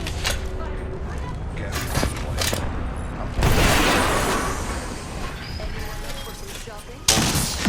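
A loud grenade explosion in Apex Legends booms suddenly, followed by a lingering roar, amid sharp game gunshots and thuds while people talk excitedly over it.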